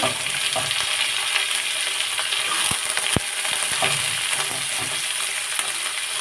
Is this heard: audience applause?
no